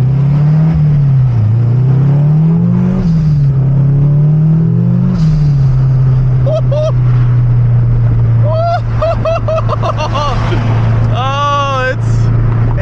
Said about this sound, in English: Oh, it's a nimble little car. It just gets off the line.